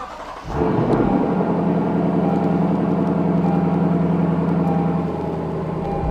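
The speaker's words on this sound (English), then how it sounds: "really what I want to show you in here is that gorgeous startup sound" A Lexus LC500 engine fires up with a loud rumbling burst, then settles into a steady, throaty idle that holds for several seconds.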